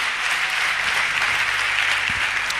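A church congregation applauds in a dense, steady wash of clapping that keeps its loudness throughout, with no pauses.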